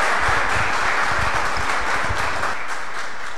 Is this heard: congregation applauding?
yes